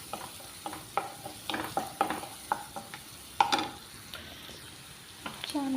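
Onions and green chillies fry in a pan for a Telugu taro-root curry, soft sizzling under repeated sharp scrapes and taps of a spoon stirring the pan.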